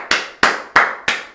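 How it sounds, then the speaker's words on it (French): Four sharp hand claps ring out alone at an even, unhurried pace, each crisp and close with a quick decay. "Moi je dis bravo, moi j'applaudis."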